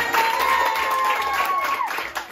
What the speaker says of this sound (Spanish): vamos a escuchar los aplausos del público